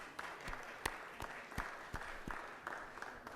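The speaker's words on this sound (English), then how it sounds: "So please join me in giving them a round of applause." Applause in the Georgia Senate chamber, a quiet spread of scattered hand claps with sharp individual claps standing out irregularly, fairly faint and with no talk over it.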